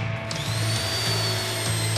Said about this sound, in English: likely I'm gonna have to drill into the object in order to see if there's anything inside